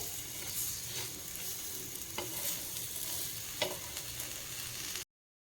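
Raw banana slices fry in a little oil on a tawa, a steady soft close sizzle with a few faint scraping stirs, alone with no talk, ending abruptly.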